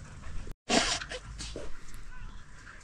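A happy dog outdoors at a reservoir spot, panting and whimpering close by with a sharp snort or sneeze, over faint wind and a soft human voice in the background.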